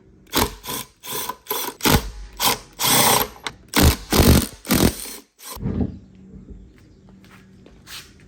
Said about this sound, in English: remove this spare tire by removing the 3 19mm lug nuts located here